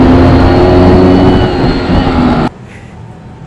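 Vespa Excel scooter with a racing aftermarket engine revving loud and close, a dense steady roar with strong harmonics that cuts off abruptly near the end, leaving a quieter idle.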